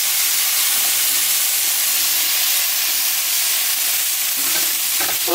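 Garlic and sliced mushrooms fry in a hot pan, a loud, continuous hiss of sizzling oil with scraping stir strokes near the end.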